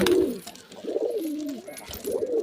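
A Madras pigeon coos from inside a cage, a close, loud run of low rolling coos that pauses briefly and then starts again near the end, with no voices.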